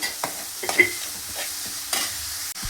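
Onions frying with curry leaves and salt in a pan, a soft continuous sizzle with a few scraping stirs of a spatula and a faint clink near the end.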